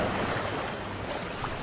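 Rough sea waves crashing against cliffs near a lighthouse, a steady broadband roar of surf with wind, continuous and fairly close, no voices.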